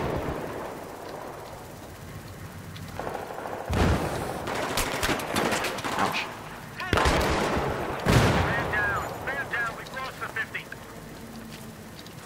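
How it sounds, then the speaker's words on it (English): Grenade blasts and gunfire in Battlefield 3 co-op combat, with several loud bursts and explosions over steady background noise while players talk. "Throwing a grenade."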